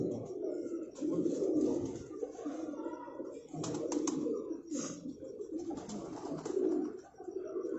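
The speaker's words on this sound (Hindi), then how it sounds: "ये इसरार भाई के कबूतर भी कमाल है, बहुत अच्छे कबूतर" Pigeons kept by a breeder in Rawalpindi coo softly and repeatedly at close range, low throaty warbling rolls layered over one another with a few faint chirps, against quiet room ambience.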